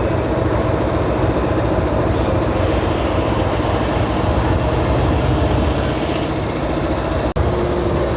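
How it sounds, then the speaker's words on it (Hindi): A Pakistan Railway GEU locomotive approaches with a steady, loud diesel engine drone and rolling rumble that holds constant throughout, with no speech. "जो हमें लेकर जाएगा लाहौर तक वो लोकोमोटिव आपके सामने आ रहा है, GEU 409039।"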